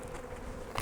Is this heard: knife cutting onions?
no